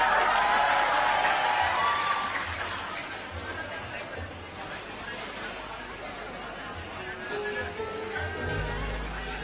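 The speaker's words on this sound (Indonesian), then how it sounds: "Mana tepuk tangannya buat Sistem Informasi." Audience at a university graduation ceremony applauds the Information Systems program, a crowd of clapping and chatter that swells at the start, thins out, then rises again, with voices talking over it.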